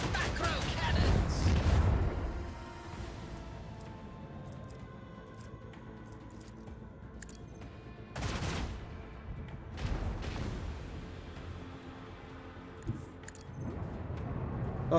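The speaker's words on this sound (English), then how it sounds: "Engage the macro cannons!" Macro cannons fire during a space battle in Rogue Trader, with a heavy booming volley at the start followed by quieter rumbling and further bursts later, set against game music and ambience.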